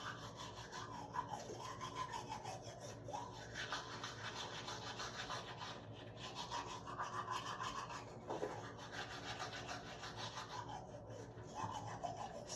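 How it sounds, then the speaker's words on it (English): Teeth being scrubbed with a toothbrush in a back-and-forth motion, a faint, continuous close-up rasping and rubbing with a repeating stroke rhythm and no talk. "start scrubbing teeth in a back and forward motion"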